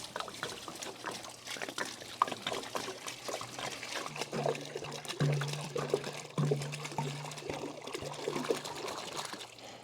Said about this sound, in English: So we're going to dump the water jug into that.